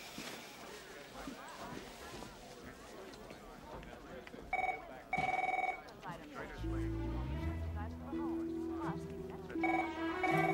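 A telephone rings in short repeated bursts, loud and near, over a busy scene where people talk and music plays beneath.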